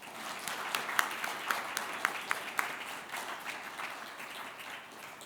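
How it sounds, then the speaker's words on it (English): An audience at an awards event applauds a young award winner with sustained, moderately distant clapping and a few sharper claps standing out. "we're going to give him a big round of applause anyway"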